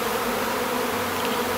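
A honeybee colony buzzes steadily and densely while being relocated from a tree trunk, a close, continuous hum with no pauses.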